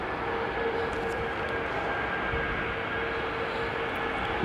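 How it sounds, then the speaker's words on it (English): An EasyJet Airbus A320-200 airliner coming in to land, its engines giving a steady, loud, continuous roar with wind noise throughout. "There is another EasyJet A320-200 now, lining up."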